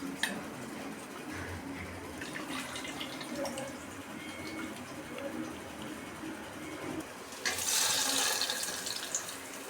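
Tamarind is squeezed and dissolved in water by hand in a home kitchen, giving soft steady sloshing and splashing, with a louder gush of running tap water near the end; no one talks.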